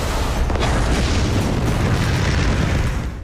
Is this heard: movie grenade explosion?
yes